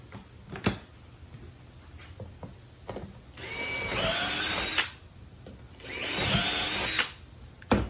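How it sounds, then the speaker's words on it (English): A power drill bores holes in a shop cabinet panel in two sustained whining bursts, separated by quieter gaps of sharp clicks and knocks. "making sure that you're drilling the holes on the right side of the panel"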